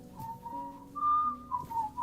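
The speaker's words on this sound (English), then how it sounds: "He's just whistling in general." A character in the game Tainted Grail: Fall of Avalon whistles a short, wavering tune, clear and close over a low ambient background.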